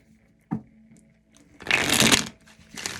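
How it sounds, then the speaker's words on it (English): A deck of tarot cards is riffled and shuffled close up: a single soft tap, then a dense, crisp burst of fluttering card noise lasting about a second, trailing into lighter shuffling. "All right, so let's give the cards a shuffle."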